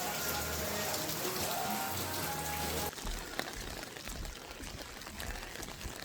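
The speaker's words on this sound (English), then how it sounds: "We trying to go out here on this beach and it's raining." Rain falls steadily on a beach, a dense, hissing patter that continues throughout, with wind noise and a shift in texture partway through.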